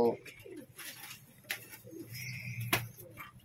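Teddy pigeons, an imported breeding line, coo in short soft bursts among chirps and rustling, with voices talking nearby.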